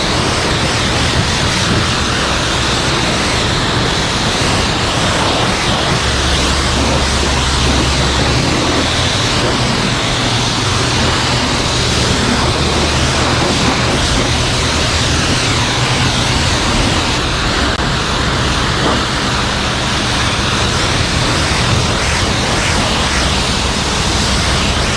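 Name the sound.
rinsing a Lexus car with water spray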